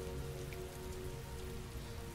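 Heavy downpour in the Heavy Rain video game, a steady dense hiss of rain drumming on surfaces with a constant low hum beneath, loud and unbroken throughout.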